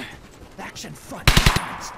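A short, loud burst of machine gun fire in the World War II shooter Brothers In Arms: Hell's Highway, several rapid cracks near the end after quieter background battle noise.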